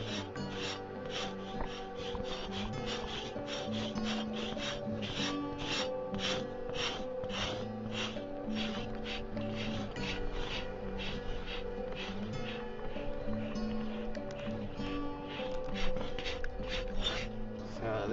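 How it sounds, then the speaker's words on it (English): A tool rasps steadily against a buffalo hide stretched on a rack as the hair is scraped off, giving a continuous rhythmic rubbing and scratching that stays fairly close, with faint voices in the background. "This is buffalo hide. What we're doing is we're scraping the hair off so we can prepare it for like a drum."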